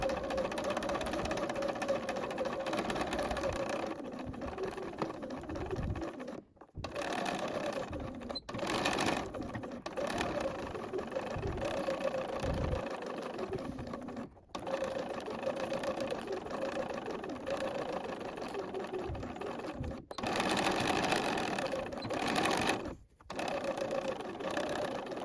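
A sewing machine runs in steady bursts while stitching a fabric ruffle on a top, its motor whirring continuously with a few brief pauses between runs.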